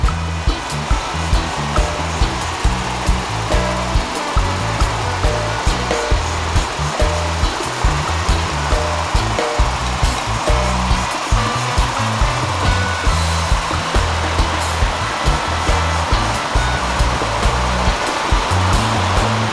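Aerated water churns in riverside fish holding tanks, a loud constant rushing hiss with a faint rhythmic pulse running through it, and no talking.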